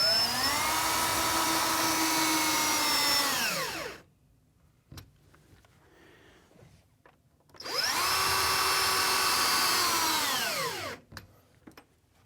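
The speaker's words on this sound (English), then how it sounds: "all I'm going to be using is normal screws, and I'm just going to screw straight through into the stud work behind." A power driver drives screws through plasterboard into stud work while a Cooke & Lewis wall cabinet is fitted: two loud, close bursts of whirring that wind down in pitch as each stops, with quiet handling clicks between.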